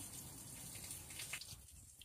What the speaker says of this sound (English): Not only is it water, it's well water from my place in Keystone